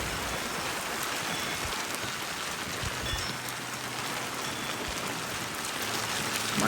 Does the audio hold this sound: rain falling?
yes